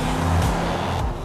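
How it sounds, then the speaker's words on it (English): A Chevrolet Corvette sports car with a 345 brake horsepower engine gives a short, loud, close engine growl with a low droning tone that eases off toward the end. "may I present to you the Corvette"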